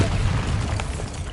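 A Bombarda spell blast in Hogwarts Legacy, a loud close boom with a rumbling low body that holds steady through its brief length.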